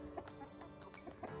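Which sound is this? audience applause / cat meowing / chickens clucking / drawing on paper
chickens clucking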